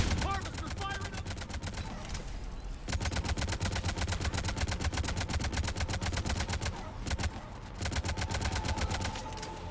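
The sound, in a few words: Harvester firing in the Mass Effect 3 video game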